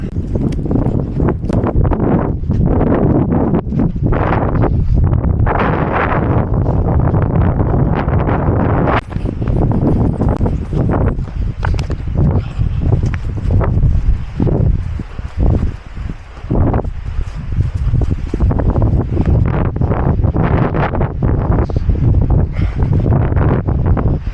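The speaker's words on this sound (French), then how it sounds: "Ah, c'était un peu la tempête là." Strong, gusty storm wind in the bush roars continuously against the microphone, buffeting and rustling loudly for the whole stretch with barely any pause.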